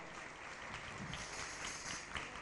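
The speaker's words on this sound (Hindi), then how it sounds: "आज के इस प्रमुख दिन पर तालियां बजाकर अनुमोदना करना चाहिए" An audience at a religious discourse gathering honouring someone claps in a dense, continuous patter of applause, moderately distant and even, with no speech over it.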